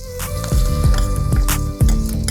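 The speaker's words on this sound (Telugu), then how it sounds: "తాలింపు తీసి పోసేద్దాం" Hot tempering of oil with cashews, asafoetida and green chillies poured onto cooked rice for pulihora, giving a loud sizzle with clinks of the pan and bursts of frying crackle, close by with no talk.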